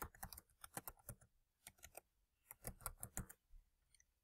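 Close, quiet bursts of typing on a computer keyboard: two runs of crisp rapid keystrokes separated by a short pause, with no voices.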